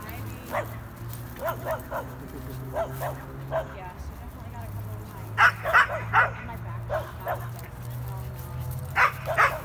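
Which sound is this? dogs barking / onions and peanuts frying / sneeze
dogs barking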